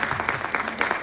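Brief, fairly quiet audience applause at a talk on faith and mental health, a patter of many hands clapping steadily for about a second.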